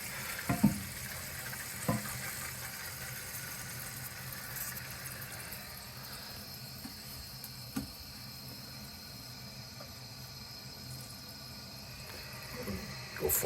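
Water from a freshly reopened supply valve runs steadily into a toilet tank during a fill-valve repair, a continuous close hiss and trickle with a few small knocks near the start and end.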